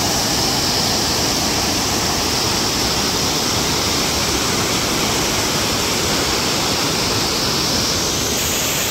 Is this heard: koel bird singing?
no